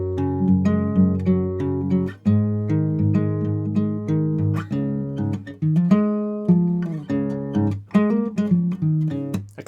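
Acoustic guitar plays the bridge section of a song, steady rhythmic strummed and picked chords with a clear harmonic texture, close and alone for nearly ten seconds.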